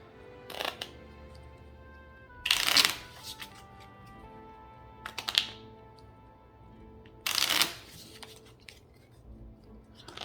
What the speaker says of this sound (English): Let's shuffle this one back in.